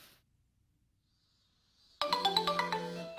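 In the video game Summer Lesson, a phone starts ringing after about two seconds of near silence, a bright electronic ringtone melody of quick repeated tones, clear and close.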